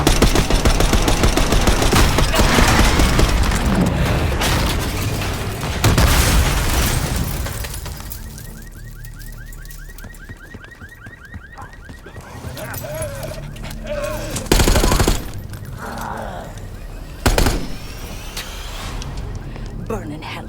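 Call of Duty Black Ops 6 gunfire opens with heavy, continuous automatic bursts and explosions, then dies back to sporadic loud single shots over quieter stretches, with voices shouting in between.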